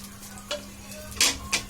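Flatbread snack cooking in a pan, a soft background sizzle broken by a few brief scraping and clinking stirs, close, with no speech.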